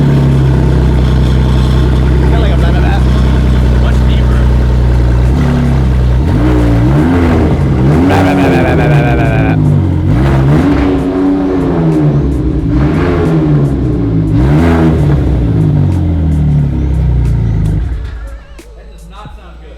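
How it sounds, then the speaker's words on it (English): Ford F-150 Raptor with an EcoBoost V6 running a straight-piped exhaust dumping right behind the catalytic converter, idling loud and close, then revved in several rising and falling pulls before cutting off near the end. "I'm gonna give you the sound of what it's gonna sound like."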